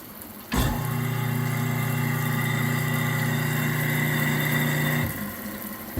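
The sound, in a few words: newly installed garbage disposal running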